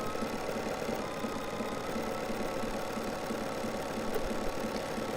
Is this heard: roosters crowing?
no